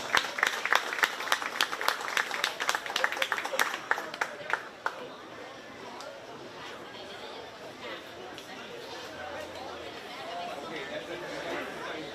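A county fair crowd claps for 4-H sheep and goat show winners, a brisk burst of applause lasting several seconds before fading into murmuring crowd chatter and background voices.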